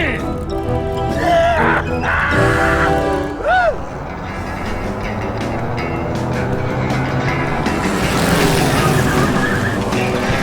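A car speeding away in Grim Fandango, a rising engine roar and rushing noise that grows steadily louder toward the end, following a brief squeal, with speech heard early on.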